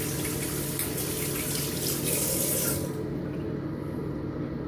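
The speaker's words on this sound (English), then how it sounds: "Let's rinse off my hands." Water pours steadily from a tap into a sink as hands are rinsed after shaving, a close, constant splashing rush that cuts off sharply partway through, leaving a faint residual drip and room hiss.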